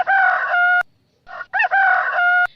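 A rooster crows loudly nearby, a long drawn-out call followed after a brief break by a second crow.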